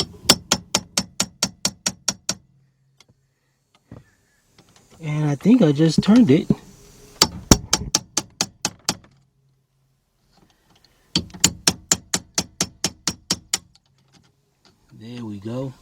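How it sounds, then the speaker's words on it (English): A hammer drives a chisel into a Volkswagen Jetta or Beetle ignition lock cylinder housing in three bursts of rapid, evenly spaced sharp blows, close and loud, with short spoken remarks in the pauses. "Take your hammer"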